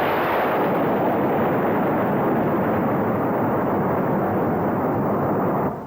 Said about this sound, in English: When they all fire at once, it's called a broadside.